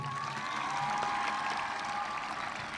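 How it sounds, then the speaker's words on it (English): Audience at a high school class of 2018 graduation ceremony applauds steadily, a dense, even wash of clapping that holds at a constant level throughout, with no talk over it. "Can we have another round of applause for Matthew?"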